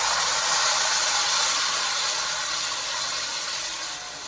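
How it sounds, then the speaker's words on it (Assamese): Water is poured into a pot of simmering fish curry with tomato and potato, making a loud, steady sizzling hiss close by that fades slightly toward the end. "এই তৰকাৰীত পানী দিলোঁ মাছৰ তৰকাৰীত।"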